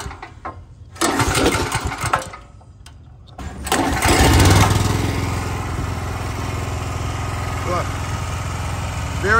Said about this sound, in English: Very loud generator right here.